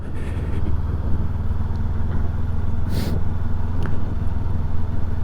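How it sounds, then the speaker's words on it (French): A 2025 Mash FR750 roadster motorcycle rolls over a speed bump at about 50 km/h, its steady engine drone and wind noise loud and close, with a brief thump-like burst near the middle. "Je vais essayer de prendre le ralentisseur à 50 pour voir un petit peu comment les suspensions elles vont absorber ça."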